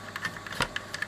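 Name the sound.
ratcheting of a handmade record-cutting machine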